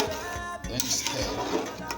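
A spoon stirs beans and corn porridge in a cooking pot, giving soft scraping and occasional clinks against the metal, close and brief, with a faint background hum.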